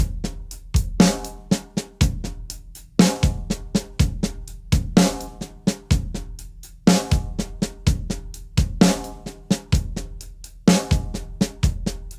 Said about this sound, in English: this paradiddle ostinato with your hands on the hi-hat and snare